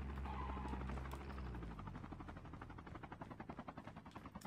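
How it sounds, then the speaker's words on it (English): A helicopter in the Call of Duty Mobile video game drones loudly and steadily, its rotor chop growing into a clear, rapid pulsing thump toward the end. "Oh, there's our chopper friend."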